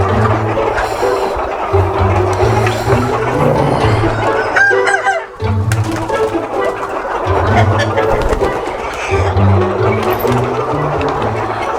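Breeder chickens crowd a poultry house, filling it with loud, dense clucking and repeated rooster crowing close by, while a person talks under the racket.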